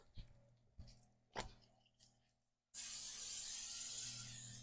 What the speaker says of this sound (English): We'll spray in the pan.